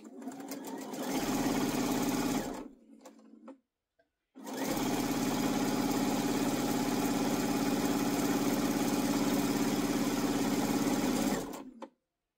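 A sewing machine chain pieces quilt block pieces, running loud and fast in a steady buzzing whir, stopping briefly for a couple of seconds, then running again in one long continuous burst before halting.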